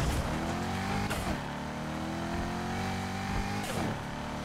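A Corvette's engine howls at high revs in Need for Speed Heat, holding a loud sustained note with quick gear-change dips and brief tire squeal in a fast game race.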